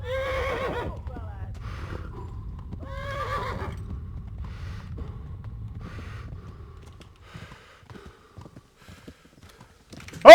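A horse neighs repeatedly in the medieval game Kingdom Come: Deliverance, several loud whinnies in the first few seconds over a low rumble of hooves and movement, fading to quieter scattered sounds before a sharp noise at the end.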